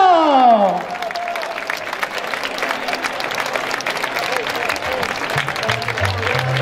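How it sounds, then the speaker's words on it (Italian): Audience at an Italian beauty pageant applauds the winner: after a brief announcer's voice and music at the start, sustained crowd clapping continues steadily and evenly, with some music faintly underneath. "vogliamo un applauso fortissimo per Rebecca Esposito!"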